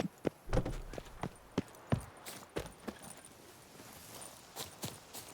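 Horse hooves clip-clop at an uneven walking pace in the video game The Witcher 3: Wild Hunt, sharp hits over a quiet background with a faint jingle of tack.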